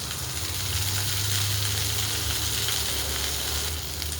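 Okra sizzles and fries in oil in a pan, a steady, dense hiss with a low undertone throughout, close and continuous with no talking.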